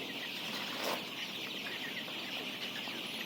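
Young Egyptian Fayoumi chickens, about twenty days old, cluck and chirp continuously at a farm, a dense steady flock chatter with no talking.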